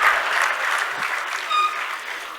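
An audience at a primary school annual day gives a round of applause, a dense, loud wash of many hands clapping, swelling and dipping slightly over a couple of seconds.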